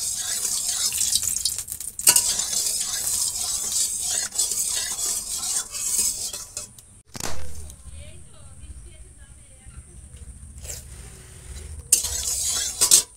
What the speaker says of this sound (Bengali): কড়াইতে মাছ দিয়ে দিয়েছি, এখন মাছটা ভাজা হবে।